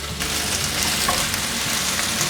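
A vegan home-style dish stir-fried quickly in a pan after seasoning with olive powder and rose salt. A loud, close, continuous sizzle runs throughout, with faint tossing underneath and no talking.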